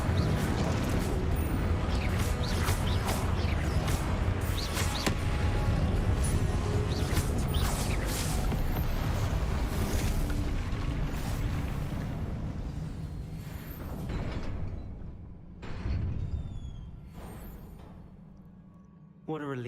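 Confringo spell explosions in Hogwarts Legacy: dense, continuous blasts and crashing bursts roar loudly for most of the stretch, thinning into scattered booms and sharp hits toward the end.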